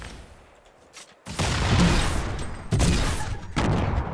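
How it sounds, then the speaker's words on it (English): A grenade blast in the Fortnite battle royale game: after a quiet start, a sudden loud, broad explosive roar erupts and rolls on with further heavy bursts and rumbling booms, close and dense. "I got grenaded"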